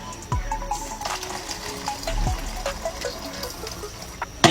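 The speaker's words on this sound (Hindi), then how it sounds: "अब हम इसमें डालेंगे पानी" Water poured from a container onto a mix of ice and salt, splashing and trickling softly with a few faint clinks of ice, fairly quiet and close, with no talking.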